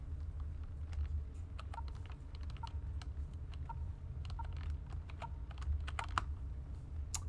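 Computer keyboard typing during a livestream of the game Spore, with scattered irregular keystrokes and clicks, close and moderately loud over a steady low rumble.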